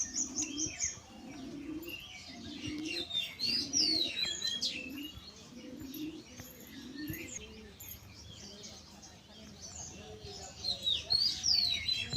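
Budgerigars in a cage chirp and warble in short, high, scattered bursts close by, over a repeating low cooing-like sound and faint background noise, with no speech.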